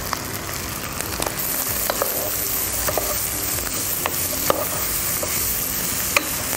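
Onions and meat sizzle steadily in a hot pan for a Gaziantep-style yogurt broad bean dish, with occasional sharp scrapes and clicks from stirring over the constant frying hiss.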